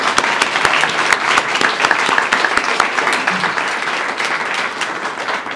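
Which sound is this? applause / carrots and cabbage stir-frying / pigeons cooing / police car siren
applause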